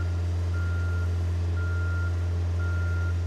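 A JLG boom lift reversing sounds a loud, regular reversing alarm, three evenly spaced beeps over a constant heavy engine drone close by.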